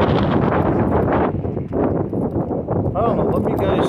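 Wind gusting steadily across a freshly mowed lawn outdoors, a constant rough roar of microphone buffeting with someone talking over it.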